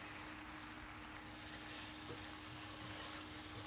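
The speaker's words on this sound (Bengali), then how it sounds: "আদা আর রসুনটা আমি পেঁয়াজের সাথে একটু ভালোভাবে নেড়েচেড়ে মিশিয়ে নিব" Onions frying with ginger and garlic in a pan, a steady close sizzle that holds even and unbroken throughout, with no voices.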